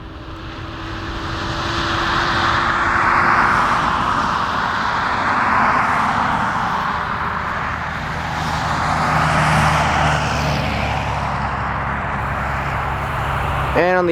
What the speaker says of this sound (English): our Delta A321neo is now starting to taxi.